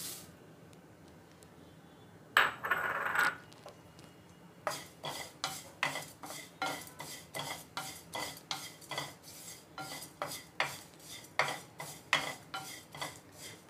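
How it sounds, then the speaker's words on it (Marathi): Flattened rice roasted dry in a pan for thalipeeth flour mix, stirred with a metal spoon in a steady rhythm of repeated scraping strokes, close and clear, after an opening burst of grains being tipped into the pan. "आता आपण भाजणार आहोत थोडेसे पोहे"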